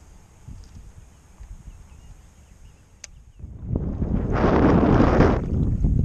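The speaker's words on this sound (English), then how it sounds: "It's gusting about 10 miles an hour right now out here." Wind gusts outdoors on the water during bass fishing: a low, faint buffeting at first, then a strong roaring gust builds and blows hard against the microphone for the last few seconds.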